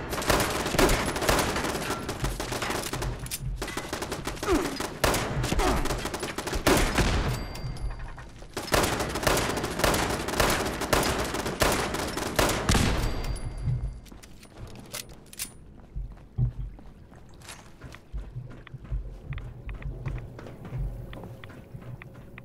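Dense automated turret gunfire in Fallout 76, sustained loud bursts and rapid volleys for most of the stretch, then quieter scattered shots as the barrage thins out near the end.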